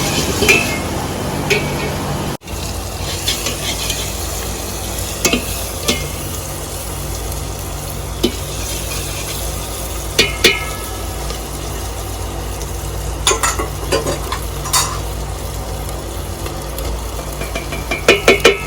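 Red tomatoes roasting in a pan, a continuous sizzle broken by sharp scraping and clinking of a stirring spoon at irregular intervals, close and loud with no voices.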